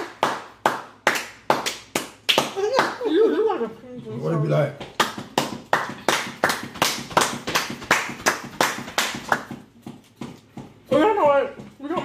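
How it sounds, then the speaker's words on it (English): Sharp hand claps in quick bursts with short pauses between them, close and loud, while people talk and laugh over them at a pizza and wings meal. "Y'all give us a head clap"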